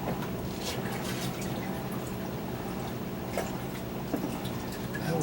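Aged aquarium water is poured into an indoor hydroponic container, giving a continuous splashing, gurgling flow with a few drips, close by and steady throughout.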